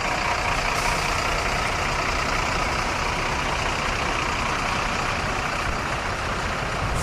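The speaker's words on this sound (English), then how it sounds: "National Bus Company liveried Route Master RMC 1476 in the London Country livery." An AEC Routemaster RMC 1476 bus in National Bus Company London Country livery runs at a bus show at Duxford, its engine a steady, fairly quiet drone in open air.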